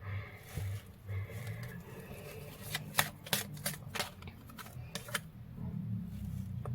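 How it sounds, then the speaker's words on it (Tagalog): A deck of tarot cards being shuffled during a reading, with a run of sharp riffling bursts in the middle and softer card handling before and after, close and with hardly any talk. "agad kong binalasa uli yung baraha"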